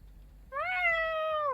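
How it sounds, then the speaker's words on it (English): A pet cat gives a single clear, drawn-out meow, close and fairly loud, over a faint low hum in an otherwise quiet room. "Did you guys hear my cat?"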